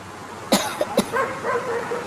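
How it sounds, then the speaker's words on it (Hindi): Faint coughing from people in a city for an animated story, a few short sharp coughs in quick succession followed by soft muffled throat sounds against low background noise. "ये अचानक लोगों को क्या हो गया, खांस क्यों रहे हैं?"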